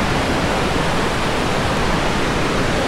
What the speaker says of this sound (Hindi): इधर से पानी आ रहा है और इधर इसको निकाल रहे हैं इस साइड पे।